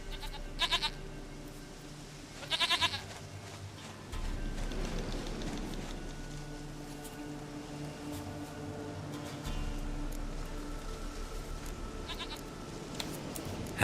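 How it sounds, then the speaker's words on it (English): A goat bleating in the video game The Witcher 3: Wild Hunt, two or three short nasal bleats among a low ambient hum and soft background rumble. "Goat of mine, dearest,"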